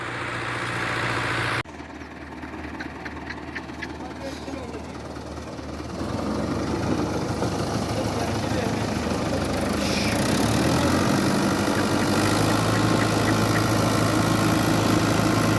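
A New Holland Fiat 640 tractor, a 2018 model rated at 75 hp and hitched to a 54-blade King Daska rotavator, runs with a steady low engine drone that steps up and grows louder partway through, then holds at full power without pause.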